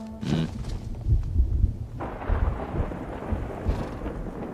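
Low thunder rumbles, then a steady hiss of falling rain takes over and continues, with more deep rumbling underneath.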